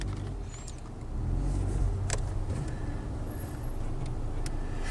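Inside a Genesis coupe with automatic transmission on the move, a low engine and road rumble swells slightly then holds steady, with a few faint ticks and clicks in the cabin.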